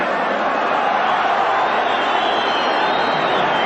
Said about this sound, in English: the crowd really in this immaculate little stadium right behind their team